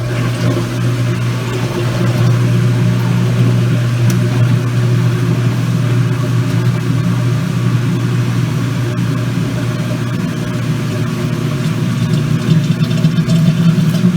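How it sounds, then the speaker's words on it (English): A Kenmore laundry center washing machine on its final spin cycle gives a steady, loud, unbroken motor whir with a low droning hum throughout, with no voices. "I should finish the final spin to spin the clothes dry"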